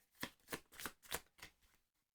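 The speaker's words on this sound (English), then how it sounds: "Let me just shuffle their deck." A deck of cards from the board game APEX: Carnivore being shuffled by hand, with five or six quick riffling bursts in an even rhythm, close and fairly quiet, ending in a short silence.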